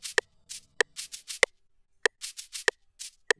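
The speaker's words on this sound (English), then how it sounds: "I layered two sounds, a shaker with a kabasa." Layered shaker and kabasa percussion sample playing a steady, crisp pattern: sharp accented hits alternate with short rattling shakes, close and dry, with no voices.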